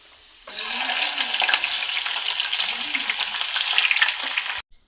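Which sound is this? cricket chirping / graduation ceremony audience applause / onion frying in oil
onion frying in oil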